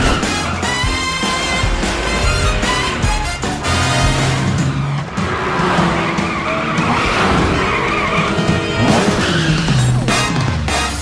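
Cartoon cat car from PJ Masks driving off with screeching tire squeals and a revving engine, layered with energetic music throughout, loud and busy.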